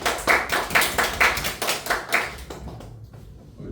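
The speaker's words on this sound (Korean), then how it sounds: "박수로 환영해줄까요?" About a dozen sharp, evenly spaced claps from a small group welcoming a visitor at a church youth worship service, quickly fading out near the end.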